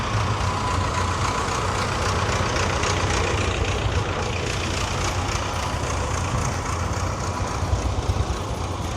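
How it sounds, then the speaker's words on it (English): Old tractors, among them a KL Bulldog, a John Deere, a Case Comfort King and a Chamberlain Type 55, idling at an equipment show, a steady low rumbling engine drone heard close by with no talk. "Coming up on some tractors again"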